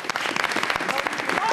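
A studio audience on a talk show claps in a dense, continuous burst of applause for a model-style walk on a red carpet, close and lively throughout.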